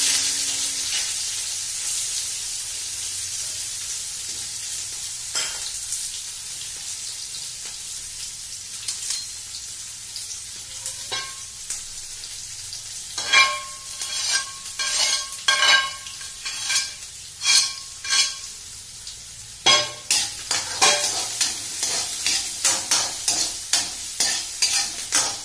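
Onions drop into a hot oil tempering for a vegetable dish and fry with a steady sizzle, at first fairly even, then broken by loud, irregular stirring scrapes close by.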